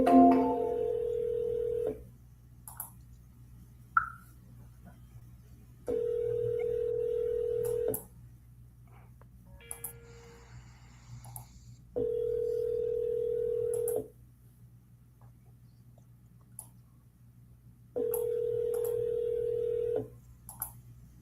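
An outgoing telephone call rings out on the line, with four evenly spaced two-second ring tones separated by long pauses and faint clicks between them.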